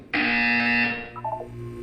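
A single loud, steady electronic buzzer tone in the video game Portal 2 sounds for about a second, then fades into softer, wavering beeps.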